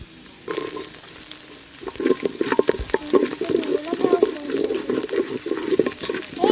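Green chillies with ginger frying in a pan for a plantain-stem soup, a steady sizzle with stirring scrapes and occasional clatter that grows busier after a quiet start.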